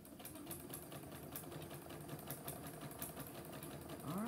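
Janome sewing machine stitching a satin pillow case, a fast, even mechanical whirr running without pause, close but quiet.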